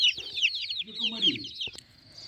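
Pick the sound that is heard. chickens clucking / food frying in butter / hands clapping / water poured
chickens clucking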